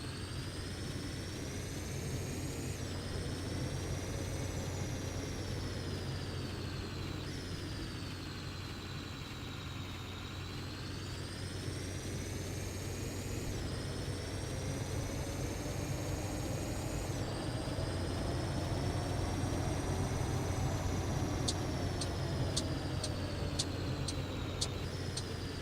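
Steady road and engine drone of a school bus in a driving video game runs continuously for the whole stretch, even and moderately loud, with slow tonal swells rising and falling over it.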